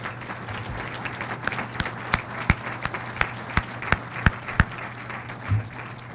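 An audience claps to welcome award recipient Bob Kulp at a Wausau Chamber small business awards event, a moderate steady round of applause with sharp individual claps standing out, indoors, fading toward the end.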